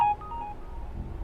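A short burst of telephone dialing tones, a brief electronic beep sequence cut off abruptly and followed by low room hum, used as a phone effect within an audiobook narration.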